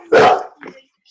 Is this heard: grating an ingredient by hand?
no